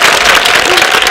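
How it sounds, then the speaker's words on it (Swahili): Dense clapping from an audience welcoming a director at a reproductive health sensitization session for pre-teens, a loud, continuous burst of many hands close by. "Makofi mzuri kabisa kwa director"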